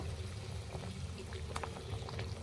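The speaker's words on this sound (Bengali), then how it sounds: "ফুটছে দেখো গপ গপ করে ফুটছে ঝোলটা" Fish curry broth boiling in a pan, a steady low bubbling and gurgling with soft pops, close and fairly quiet, with no talking.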